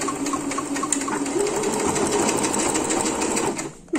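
A sewing machine stitches a pocket onto a crocheted raffia bag, a steady rapid mechanical whir with fine rhythmic needle ticks, running close and continuous before stopping abruptly at the end.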